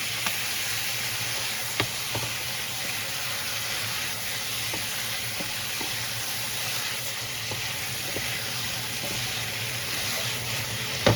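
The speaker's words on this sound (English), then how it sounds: "Add the prepared sauce mixture and stir fry." Wood ear mushrooms stir-fried with a sauce mixture in a hot pan sizzle steadily, broken by light clicks and scrapes of stirring, close and moderately quiet, with no talking.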